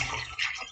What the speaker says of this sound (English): I am going to pour my solutions in there to see what kind of reaction you